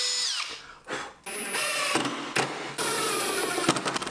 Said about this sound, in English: The instructions say to drill the first holes 2 inches from the bottom.